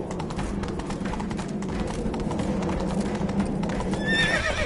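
A horse galloping in the Witcher 3 video game, with steady close hoof clip-clop under a constant game soundscape and a whinny near the end.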